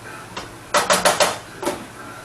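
A spoon clanks and scrapes against a pot on a stovetop, several quick close knocks in a short run followed by one more, with no talking.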